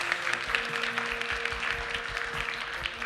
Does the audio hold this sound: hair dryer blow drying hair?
no